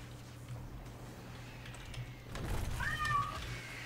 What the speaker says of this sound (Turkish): Ve bir miyav geldi.